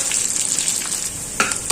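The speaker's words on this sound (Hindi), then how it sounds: "15 से 20 कड़ी पत्ता और हल्का सा यानी कि 30 सेकंड के लिए ये तड़का थोड़ा सा चला लेंगे" Curry leaves crackle and sizzle in hot oil for an Indian tadka meant for sambhar: a steady, close hiss with a brief clink of stirring near the end.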